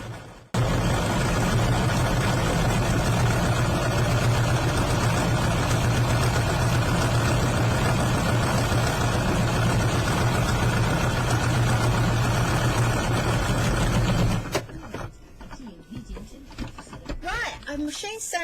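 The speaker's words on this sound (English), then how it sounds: "all I will do is machine sew that down." A sewing machine runs steadily, stitching down the insides of a lace-scrap journal cover, a loud continuous motor drone for about fourteen seconds that then stops, leaving quieter handling sounds.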